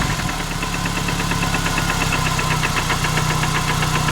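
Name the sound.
car engine knocking at idle after Lucas Oil Stabilizer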